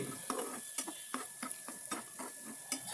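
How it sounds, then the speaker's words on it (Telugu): Bitter gourd pieces fry in a pan with a soft, steady sizzle, punctuated by a rhythmic series of sharp spatula scrapes and taps about every third of a second. "అది మంచిగా ఫ్రై అవుతుంది ముక్క పడుతుంది చూడండి"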